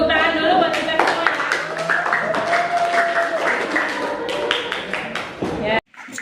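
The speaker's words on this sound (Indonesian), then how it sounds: "Tepuk tangan dulu buat kita semua" A classroom of students gives a burst of dense, steady applause with voices talking over it, and the clapping then cuts off abruptly near the end.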